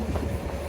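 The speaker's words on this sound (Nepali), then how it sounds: "ट्रेन आइसकेको छ" A train pulls into a station near Obi in Nichinan, Japan: a brief, close, steady rumble of wheels and carriages with no talk.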